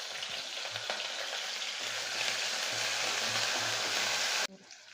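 Whole green chilies and curry leaves sizzling in hot oil in a pan while a Chettinad tamarind curry is cooked, a steady, quiet frying hiss that stops abruptly near the end.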